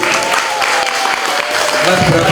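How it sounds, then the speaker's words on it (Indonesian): An audience at a theatre performance claps for Ruli in a brief burst of applause, loud and close, overlapped by talking voices. "kita beri tepuk tangan Ruli"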